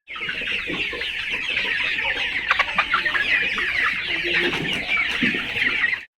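A flock of broiler chickens on a poultry farm, about 49 days old, clucking and chattering continuously in a dense close chorus, with a few louder individual calls standing out.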